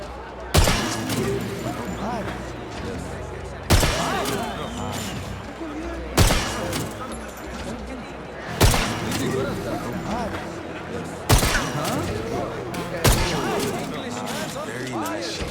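Sharp, loud gunshots ring out at intervals of a few seconds in the 007 First Light video game as targets are hit at a black market auction, with game music and voices underneath.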